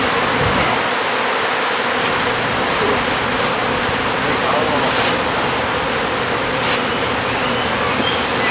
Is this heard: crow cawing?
no